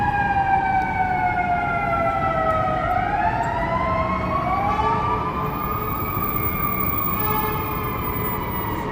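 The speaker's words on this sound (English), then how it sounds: "Come some sirens." Emergency vehicle sirens wail along a Chicago city street, rising and falling tones with several overlapping sirens over a steady traffic rumble, loud and sustained.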